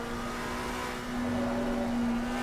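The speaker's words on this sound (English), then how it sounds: "That is the sound of an engine that isn't very happy." Struggling McLaren race car engine in a racing video game at Kyalami, holding a strained, droning tone that rises slightly partway through, continuous and fairly loud with no voices.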